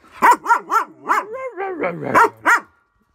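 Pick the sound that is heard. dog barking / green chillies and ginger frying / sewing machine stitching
dog barking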